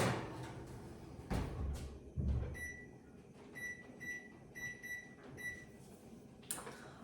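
An oven door closes with two dull thumps after a low-carb pumpkin bread goes in, followed by a series of short electronic beeps in a quiet kitchen.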